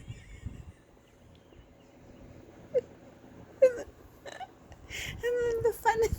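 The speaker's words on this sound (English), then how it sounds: "Oh my god, why am I hiccuping?" Person with a bout of hiccups, several short, sharp, isolated hiccup bursts spaced irregularly over a quiet room, with some speech-like vocal sounds toward the end.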